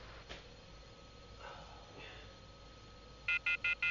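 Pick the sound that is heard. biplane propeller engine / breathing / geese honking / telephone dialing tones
telephone dialing tones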